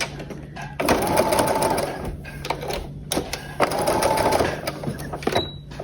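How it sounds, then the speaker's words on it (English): A sewing machine running in two loud bursts of rapid stitching across the flaps of a zipper while making a zipper bag, with short pauses and clicks between the runs. "you can stitch through these little extra flaps of the zipper to let it hold still when you're getting ready to sew"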